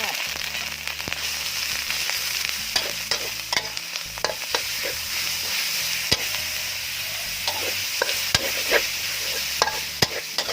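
Thai curry paste and beef fry in oil in a pan, giving a continuous close sizzle broken by frequent sharp scraping and clicking as the mixture is stirred.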